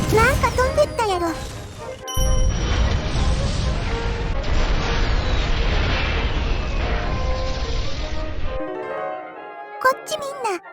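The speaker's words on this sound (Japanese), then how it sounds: "爆発した。" A test-flight craft blows up in Kerbal Space Program 2, a loud sustained roaring crash with rumbling debris that cuts off abruptly, followed by lighter clattering game sounds.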